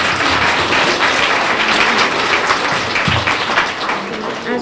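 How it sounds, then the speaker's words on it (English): Audience at a school Hispanic Heritage Month event applauding, a mix of claps that stays busy and fairly loud for a few seconds, with a hint of voices mixed in. "Another round of applause for Bella Crosman."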